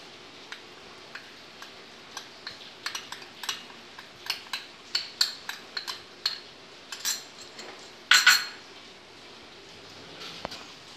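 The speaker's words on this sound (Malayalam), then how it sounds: "ഇനി അതിലേക്ക് നമുക്ക് 1 കപ്പ് കടലമാവ് ചേർത്ത് കൊടുക്കാം" A spoon or spatula stirs and scrapes gram flour (besan) in a hot pan for besan burfi, with sharp irregular clinks and taps that cluster and grow louder midway, close up with no talk.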